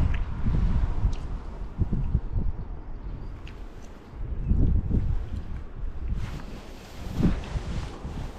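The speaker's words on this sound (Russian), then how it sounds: "Ветрено." Wind buffets the microphone at a hilltop viewpoint in Gaspra, Crimea, as a steady low roar with stronger gusts swelling and fading, near and fairly loud, with no voices.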